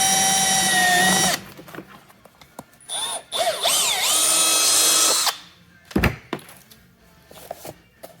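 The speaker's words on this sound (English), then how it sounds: "I'm gonna go ahead and just drill the hole the way it sits." A power drill with a 1/4 inch bit bores holes through Powermadd Sentinel armor, whining in loud bursts that rise and dip in pitch as it bites, separated by quiet pauses and a few clicks and thunks.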